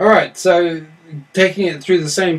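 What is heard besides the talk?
No everyday noise stands out behind the speech.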